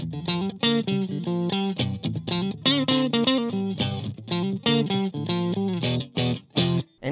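Fender Telecaster electric guitar played on its other single-coil pickup, a run of bright, clear plucked notes and chords in a quick, varied rhythm, close and steady in level with no talking.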